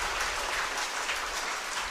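Audience applause at a Marian covenant retreat, a steady wash of clapping that stays dense and even throughout, with no voices over it.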